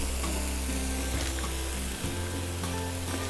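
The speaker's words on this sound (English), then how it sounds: "Now we're going to cook this down for a couple of minutes" A pot of food sizzles and bubbles steadily on a stove as it cooks down, a constant close frying hiss with faint stirring clinks and no talking.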